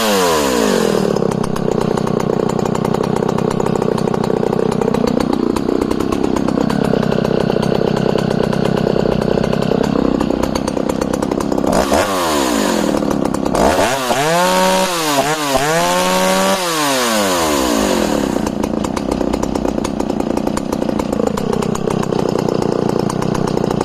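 Al-Ko Alpina 55 Professional chainsaw running after a restart, loud and close throughout, idling steadily with several revving surges and a choppy burst of rapid throttle blips near the middle, no voices.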